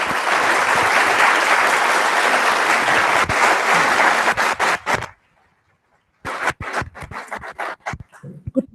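An audience applauds to welcome Professor Ursula Lehr at a conference lecture: dense, sustained clapping that thins into scattered claps, falls silent for about a second, then resumes as sparse, uneven clapping.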